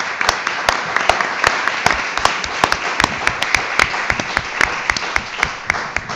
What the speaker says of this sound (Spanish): Un aplauso para los ponentes.